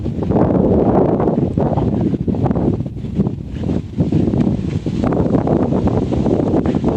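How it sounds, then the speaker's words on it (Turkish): Strong wind buffets the microphone in loud, rumbling gusts that rise and dip unevenly, with faint rustling beneath and no speech. "Evet güneş var ama rüzgar da çok."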